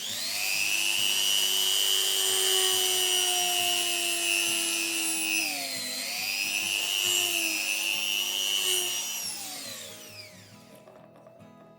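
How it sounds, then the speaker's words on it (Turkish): A small drill bores a hole into a walnut shell, a loud continuous high whine that dips in pitch as it bites in, then tapers off to quiet at the end. "Burada şuradan bir delik açalım."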